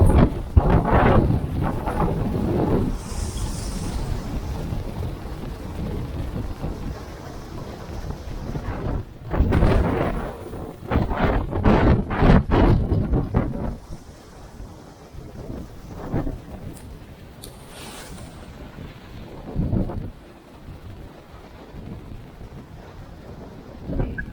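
Sea waves surge and crash against the rocks by the caves at Ilfracombe, North Devon, near high tide, in repeated loud rushing bursts mixed with heavy wind buffeting the microphone.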